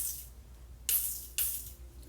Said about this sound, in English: I'm gonna take my Morphe Continuous Setting Mist, and I'm gonna spray.